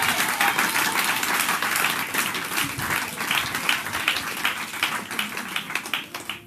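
Church congregation applauding at a Sunday morning service, a steady dense patter of many hands clapping throughout, fairly loud and close, with no voices over it.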